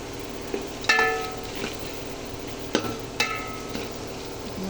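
Biryani masala being scraped and stirred in a pan over low heat, a soft background sizzle with a few distinct metallic scrapes of the spoon against the pan bottom, close and otherwise quiet.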